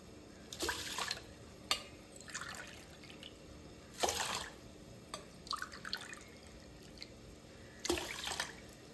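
Water poured from a tumbler onto rice for sweet pongal, heard as several separate short splashing pours with quiet gaps between them, close and fairly soft.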